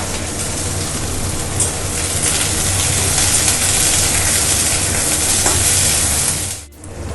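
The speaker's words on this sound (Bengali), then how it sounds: "আমার ফুলকপি আর কড়াইশুঁটি দেখুন পুরো ভাজা হয়ে গেছে।" Cauliflower and green peas fry in a pan, producing a loud, continuous sizzle and crackle that holds steady before cutting off abruptly just before the end.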